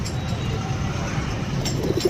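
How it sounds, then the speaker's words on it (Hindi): Madrasi pigeons at a pet shop give soft, low cooing amid steady background hubbub and traffic-like noise, with a few faint higher chirps near the end. "मद्रासी कबूतर है मेरे भाइयों"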